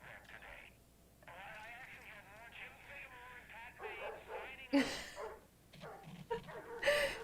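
A dog barks frantically in the video game Alan Wake 2, with repeated, fairly close barks that grow sharper toward the end, mixed with a person talking over the game sound.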